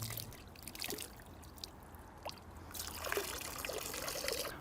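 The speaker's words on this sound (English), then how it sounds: "The first step is to rinse the tube 3 times with the water to be tested." Water trickles and splashes into a turbidity test tube during a rinse, a quiet, irregular pouring and dribbling with small splashes heard alone at close range.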